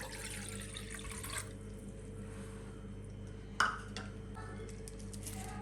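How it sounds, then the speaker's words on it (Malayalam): Tender coconut water pours into a saucepan, a soft steady liquid rush for just over a second, then a quiet room with a single faint clink and light trickles. "ആദ്യം തന്നെ നമുക്ക് ഈ ഇളനീര് വെള്ളം സോസ് പാനിലേക്ക് ഒഴിച്ചു കൊടുക്കാം."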